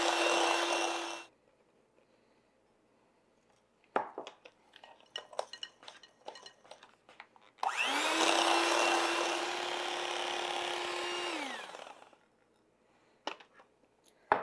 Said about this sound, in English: then turn the mixer back on